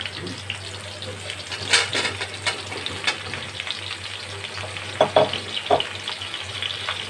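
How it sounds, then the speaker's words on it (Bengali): Raw mango pieces coated in salt, turmeric and chilli powder fry in a pan with a steady hiss and sizzle, while a few louder scraping stirs rise over it at intervals. "আমগুলো আমি একটু ভেজে নেব"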